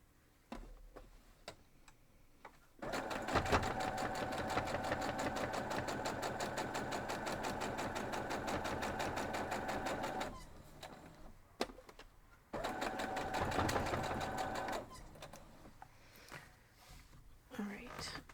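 A sewing machine stitching quilt block pieces runs in two long, steady rhythmic bursts, close and fairly loud, separated by quieter handling clicks and soft speech.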